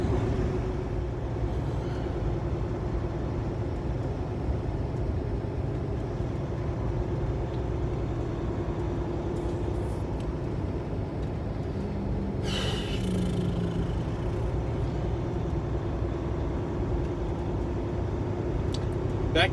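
A 2015 Kenworth T680 truck drives steadily with a constant low engine rumble and road noise throughout, with a brief hiss or air-brake-like burst partway through and no talk.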